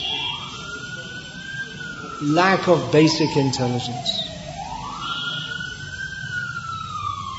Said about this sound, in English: Now they have this siren.